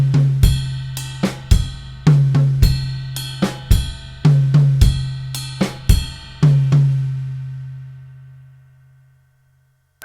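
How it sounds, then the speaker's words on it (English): A drum kit plays a groove with ride bell strikes and a snare backbeat landing on the and of 2, crisp repeated hits over a low ringing tom-like tone, ending with a decaying ring. "just shifting that backbeat, that slap on the snare drum from the 2 to the end of 2 really changes the feel of the groove"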